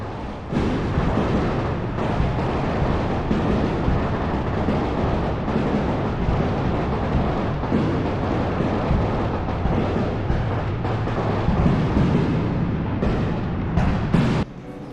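Fireworks show following a Pirates baseball game in the city, continuous booming bursts and crackling pops rolling one after another, loud and dense throughout.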